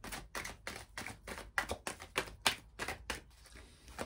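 Amethyst Love oracle cards being handled and drawn: a run of quick, crisp taps and flicks close up, fairly steady in rhythm, thinning out toward the end, with no voices.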